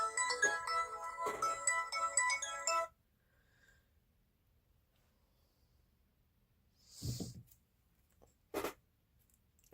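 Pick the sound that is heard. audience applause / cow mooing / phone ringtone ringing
phone ringtone ringing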